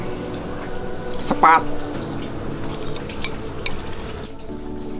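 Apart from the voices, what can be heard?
cutting stir-fried petai with cutlery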